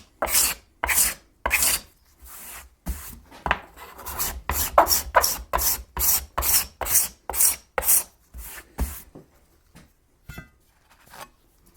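Hand scraper made from an old, sharpened saw blade scraping wood: a loud, close series of rasping strokes in a fast, steady rhythm that tapers into a few lighter passes at the end, with no voices.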